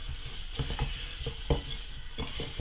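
A wooden spoon stirs a pork pie meat mixture in a bowl, giving soft, uneven thuds and scrapes at close range with no talking.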